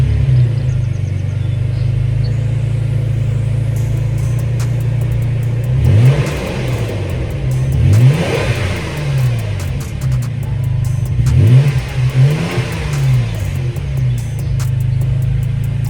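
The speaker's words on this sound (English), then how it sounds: "a little sound clip just to show you the comparison of the TRD exhaust versus the MBRP one" A third-generation Toyota Tacoma pickup with its stock TRD exhaust idles with a steady low rumble, then revs sharply several times in bursts, the exhaust note rising and falling before settling back to idle.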